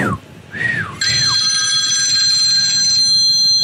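Two rising-and-falling human whistles, then a phone's alarm starts ringing in response, a bright electronic warble that rings loud and steady for several seconds.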